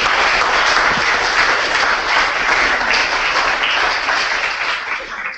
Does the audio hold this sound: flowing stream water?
no